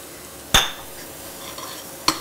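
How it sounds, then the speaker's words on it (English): Rice being stirred and toasted in oil in a pot, with a low steady sizzle and two sharp scrapes of a utensil against the pot, close and without talk. "now we're going to add the rice and also let it saute for a minute."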